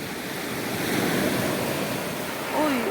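Sea waves breaking on the shore on a warm day, a loud continuous wash of surf swelling and receding close by, with a faint voice-like sound near the end.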